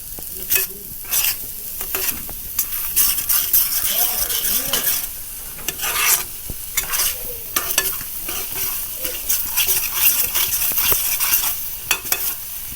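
Food frying in a pan while a utensil stirs it, a loud, close sizzle with repeated scraping and clinking strokes against the metal, continuing throughout with no talk.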